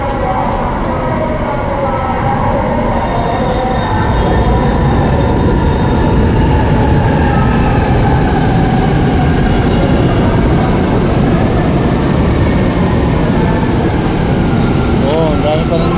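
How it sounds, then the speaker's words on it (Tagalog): A train rumbles loudly and continuously as it rolls in, with heavy low-pitched roar, faint squeals, and people talking beneath the noise. "Yan na, parating na yung tren."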